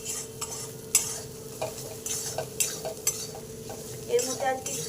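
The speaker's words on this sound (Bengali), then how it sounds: "মশলাটা আমি একটু কষে নিয়েছি আর তেল বেরিয়ে এসেছে" Spice masala for a simple chicken curry fries in oil with a steady sizzle, and a spatula stirs and scrapes the pan in repeated rhythmic strokes, some of them sharp. Nobody talks over it.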